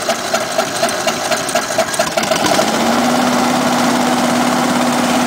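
A small engine drives a student-built hovercraft. It chugs at idle with a rhythmic patter, then surges to full throttle into a loud, steady, sustained drone that holds to the end.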